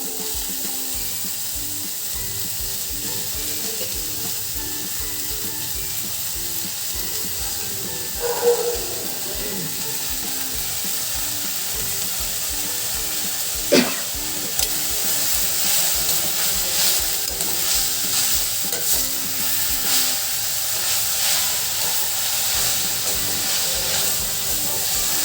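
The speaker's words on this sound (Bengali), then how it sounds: "এবার আমি মেথি শাক যেটা কোচানো ছিল দেখুন, সেটা আমি কড়ার মধ্যে ছেড়ে দিচ্ছি ভাজার জন্য।" Fenugreek leaves with onion and chilli fry in a hot kadai, giving a steady hiss and sizzle that runs the whole time with a few brief clinks near the middle.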